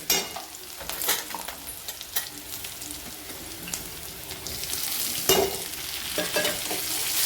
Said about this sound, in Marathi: कोथिंबीर पण छान परतून घ्यायची।